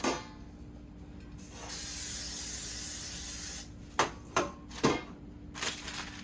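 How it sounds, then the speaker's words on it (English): Cooking spray hisses onto a cake pan for a chocolate cake in a quiet kitchen. An opening click leads into a steady spray lasting about two seconds, followed by several short, sharp taps and bursts. "So I'm just gonna spray my pan."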